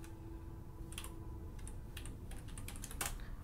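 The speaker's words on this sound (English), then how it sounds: "I'm just typing it on Google." Quick bursts of typing on a computer keyboard, with irregular clusters of key clicks over a low steady hum.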